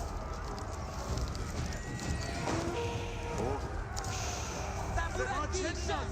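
Galloping horses clip-clop steadily over a busy Age of Empires 4 battle soundscape, with speech-like chatter and scattered clanks layered throughout.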